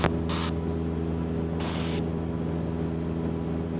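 A Cessna 172 light aircraft engine drones steadily in flight at night, a loud, constant low hum with strong harmonic tones, with two short bursts of higher radio-like hiss over it and no talking.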